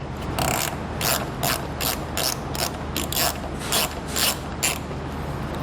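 A ratchet backs out a 5mm Allen head bolt from a vehicle fascia with a run of sharp clicking bursts in a steady back-and-forth rhythm, close up and with no voices.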